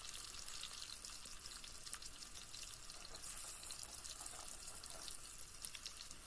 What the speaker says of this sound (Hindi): बैंगन को हमें अच्छे से फ्राई करना है, इनका कलर चेंज होना चाहिए।